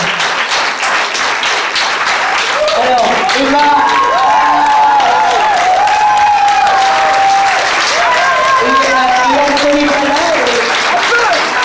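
Audience applause at a youth festival in Rémalard-en-Perche, a steady dense wash of clapping filling the room, with someone talking over it throughout.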